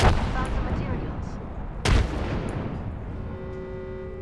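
A frag grenade explodes in the Apex Legends battle royale game with a sharp, loud boom, following an earlier loud blast, and the rumbling tail fades into a steady hum with faint game noise beneath.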